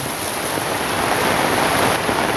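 Heavy rain mixed with rushing flood water makes a dense, steady hiss and roar that stays loud and unbroken throughout, with no voices.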